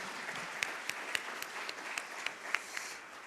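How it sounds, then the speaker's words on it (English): Audience applause for a panel at a public-private forum in Namibia, a soft steady patter of many hands, fairly distant, with a few sharper individual claps standing out now and then. "A round of applause for our panel"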